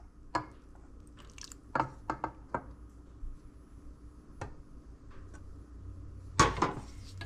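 Spaghetti being stirred through sauce, likely in a pot or pan, gives scattered soft wet squelches and utensil clicks, with a louder cluster of scraping toward the end; no one speaks.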